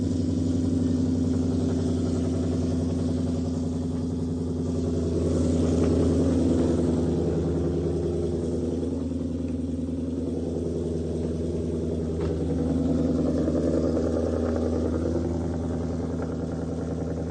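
A used car offered on an online marketplace idles loudly with a deep, steady rumble and low clatter, swelling slightly a couple of times as it runs, close and continuous.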